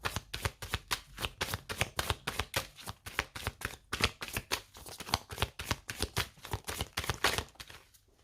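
Tarot cards are shuffled rapidly and repeatedly, giving a steady run of crisp riffling slaps close to the mic for several seconds with no talking.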